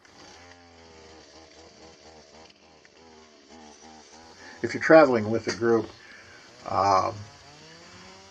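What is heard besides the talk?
chainsaw cutting fallen tree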